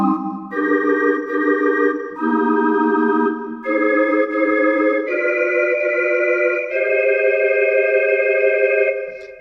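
Organ playing a song as plain block chords, full sustained chords changing every second or so in a smooth legato sequence, loud and close with no talking.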